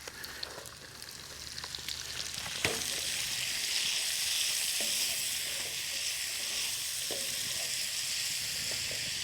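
Vegetables sizzle in a pan where ham was just cooked at a cold-weather truck campsite; a quiet start gives way to a loud, steady frying hiss after a sharp clatter, with occasional stirring clicks.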